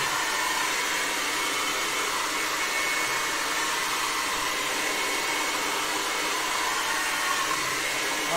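A hair dryer blows steadily and loudly at close range, drying scatter fibre on an OO9 narrow gauge model railway layout, an even continuous whoosh with no talk.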